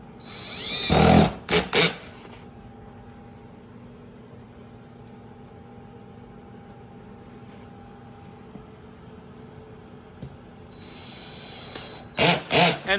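A power tool briefly whirs at the start and again near the end while driving screws into a monitor bracket, with a quiet steady hum in between and no talk.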